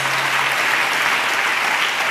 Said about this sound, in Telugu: చప్పట్లు కొడుతూ ఆ దేవునికి స్తోత్రాలు చెప్దాం